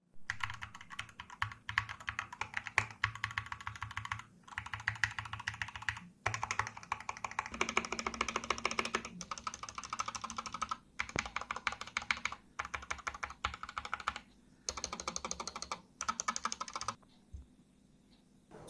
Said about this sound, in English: it sounds like a very premium quality mechanical keyboard